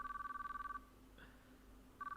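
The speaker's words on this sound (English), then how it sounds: "The only thing I heard was the endless sound of ringing." A telephone in the visual novel game Chaos;Child rings with a rapid electronic trill, a long burst cut off by a quiet pause before the ringing starts again, faint and steady.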